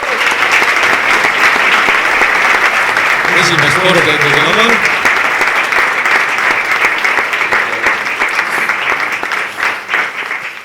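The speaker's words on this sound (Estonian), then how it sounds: "teeme siis Sendi Koile ja Kooner Investorile ka suure sooja aplausi" Audience applause at a Mulgi financial literacy evening event: dense, continuous clapping that fades toward the end, with a voice speaking briefly over it.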